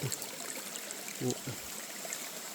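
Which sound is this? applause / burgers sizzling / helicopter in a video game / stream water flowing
stream water flowing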